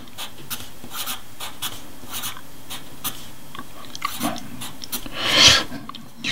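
A pencil writing cursive letters scratches across paper in short, rhythmic strokes with brief pauses, ending in a longer, louder scrawl; quiet and close.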